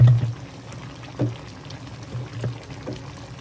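Water is poured into a pan of tomato puree chicken curry, giving a short splashing pour with a few soft gurgles and bubbling bursts, close and fairly quiet, without speech.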